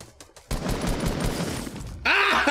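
Gunfire in a video game shooter rattles in a rapid burst of shots, loud and close, ending in a sharp change to a different synthetic game sound.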